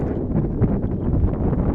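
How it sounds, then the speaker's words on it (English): Wind gusting across an outdoor field at a boys' high school soccer game, a steady loud low rumble buffeting the microphone throughout with no voices. "Oh my goodness, is it plenty windy?"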